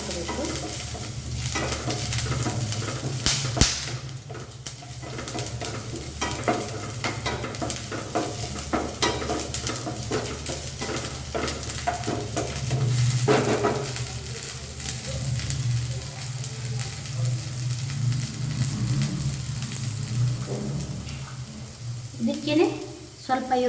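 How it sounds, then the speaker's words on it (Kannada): Ginger, garlic, cinnamon, cloves and cumin frying in a pan for badanekayi ennegayi, a continuous near sizzle with a spatula stirring and scraping, loud and even. "ಸ್ವಲ್ಪ ಹಸಿ ವಾಸನೆ ಹೋಗೋವರೆಗೂ ಈ ರೀತಿ ಫ್ರೈ ಮಾಡ್ಕೋಬೇಕು."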